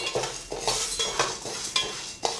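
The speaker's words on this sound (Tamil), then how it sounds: "இப்போ நம்ம அதில் உளுந்து போட்டு வறுத்துடலாம்" A spoon stirs urad dal roasting in a pan for murukku, scraping in a steady rhythm about twice a second, close and clear.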